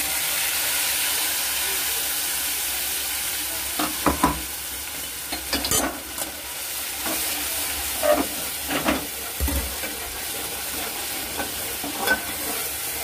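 Cumin and ground peanut paste hit hot oil with fried garlic, giving a steady sizzle and hiss with occasional louder crackles and stirring clatter.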